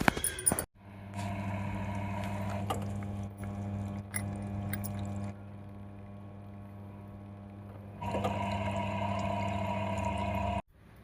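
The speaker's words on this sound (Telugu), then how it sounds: "వాషింగ్ మిషన్ ఆన్ చేస్తే అది తిరిగి ఇలా వాటర్ని బయటకు వదిలేస్తుంది" A washing machine drains its water during cleaning: a steady motor hum with gushing flow runs for several seconds, drops to a quieter drone, then surges back before cutting off.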